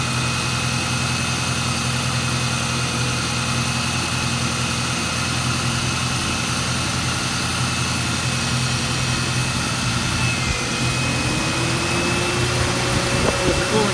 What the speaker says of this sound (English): There's the cooling fans.